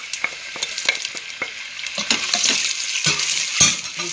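Chopped onions sauté in hot red palm oil for okra soup, making a loud, close, steady sizzle broken by repeated sharp scrapes and clinks of a spoon stirring the pan, with no voices.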